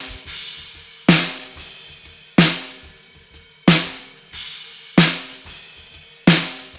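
Six steady snare hits recorded from underneath the drum with a Beyerdynamic M201 microphone, bright and rattly with buzzing snare wires after each strike, no talking.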